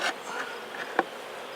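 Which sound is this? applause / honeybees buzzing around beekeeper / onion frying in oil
honeybees buzzing around beekeeper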